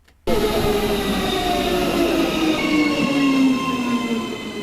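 A train at Panmure station in Auckland runs steadily and close by, with a continuous rumble, rolling wheel noise and faint metallic squeal, starting abruptly after a brief quiet moment and holding loud throughout.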